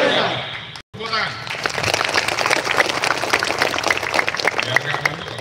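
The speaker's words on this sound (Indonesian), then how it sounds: "Tepuk tangan." A crowd applauds at a provincial governor's visit with TNI and police personnel, scattered clapping building after a brief pause and continuing steadily under a loud voice talking.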